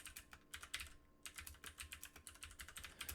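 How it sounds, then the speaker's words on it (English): Fast typing on a mechanical keyboard with blue switches, a rapid stream of sharp clicky keystrokes with a brief pause, close and distinct with no voices. "my keyboard is so fucking loud when I'm typing"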